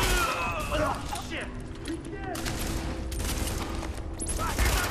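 Short bursts of MP5 gunfire in The Division, rapid clustered shots amid a chaotic firefight, with someone talking over much of the action.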